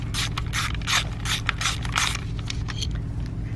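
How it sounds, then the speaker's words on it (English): A ratchet works the ignition coil pack bolt loose on a Ford Fusion, giving a run of quick, close clicking strokes in steady bursts with no talking. "take the bolt out, remove your coil pack"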